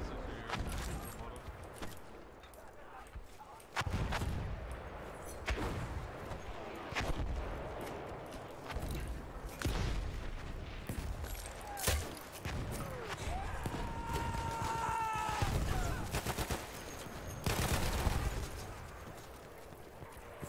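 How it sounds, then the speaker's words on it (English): Mortar and artillery fire in Battlefield 1, with repeated sharp blasts and distant booms scattered over a continuous battlefield din and occasional whistling. "It's just a mortar fest."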